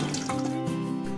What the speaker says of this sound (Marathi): एक दोन पाण्यातून स्वच्छ धुवून घ्यायचे आपल्याला ही डाळ.